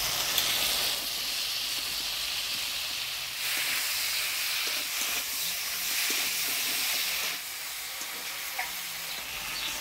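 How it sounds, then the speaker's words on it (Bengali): Ridge gourd added to a pan of potatoes and spices sizzles with a steady, bright hiss, fairly loud and continuous, with faint stirring clatter under it and no talking. "এবার দিয়ে দিব ঝিঙ্গা।"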